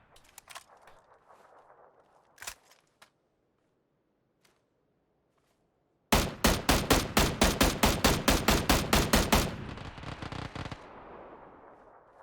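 Automatic gunfire in PUBG: a few scattered single shots, then a loud rapid burst of roughly fifteen evenly spaced rounds, fading into a trailing rumble.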